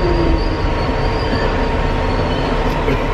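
Subway train in a station, a loud continuous rumble of railcars with a high steady wheel squeal ringing over it, heard close with no speech.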